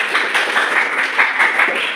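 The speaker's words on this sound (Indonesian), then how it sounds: "Jadi kita beri tepuk tangan." Classroom applause after a student group's presentation on sustainable lifestyles, a steady wash of many hands clapping close by, fairly even in loudness and with no one speaking over it.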